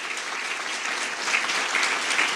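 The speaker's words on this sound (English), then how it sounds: "let's give him another round of applause for sharing with us" A luncheon crowd at a state address applauds, a steady, even roar of many hands clapping throughout, slightly swelling near the end.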